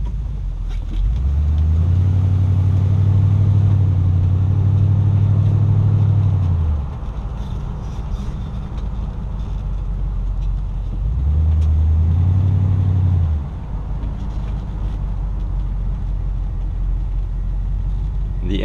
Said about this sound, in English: The engine's running really smooth.